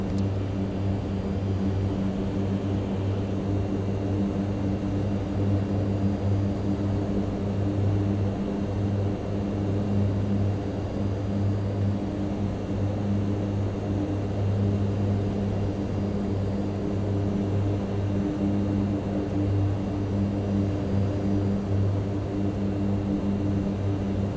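Mitsubishi MU-2 turboprop aircraft in flight with throttle eased back, giving a steady, loud cabin drone of engine and propeller hum that stays even and continuous throughout, with no talk.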